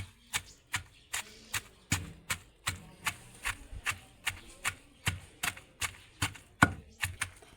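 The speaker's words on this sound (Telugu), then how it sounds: "గళ్ళుప్పు వేసి పచ్చిమిర్చిలో నూరుకోవాలి అప్పుడు పచ్చిమిర్చి చిందకుండా మంచిగా మెత్తగా మెరుగుతాయి" Green chilies and coarse rock salt are pounded in a stone mortar for an Andhra-style gongura chutney. The strikes come as a steady run of close, sharp thuds, roughly two per second, with no talk.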